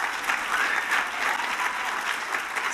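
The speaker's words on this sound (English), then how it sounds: "I assume that's applause for surviving" An audience at an evening event for Utah girls and women claps in sustained, even applause, a dense crowd of hands at steady loudness with no talk over it.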